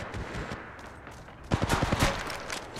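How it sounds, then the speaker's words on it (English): Weapon fire in Apex Legends Mobile: after a quieter stretch, a rapid burst of several sharp, closely spaced shots rings out, fairly loud and close. "Opening fire"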